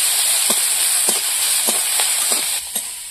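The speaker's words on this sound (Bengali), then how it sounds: "এবার চিংড়ি মাছগুলো দিয়ে দেবো। হলুদ, মাছটা একটু ভেজে নেব।" Shrimp frying in a pan with onion and turmeric give a steady, loud sizzle and hiss throughout, broken by faint soft clicks of the pan or spatula.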